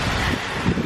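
Strong wind gusting through a rain and hail storm, a steady dense roar buffeting close to the microphone with a brief surge near the end, no voices.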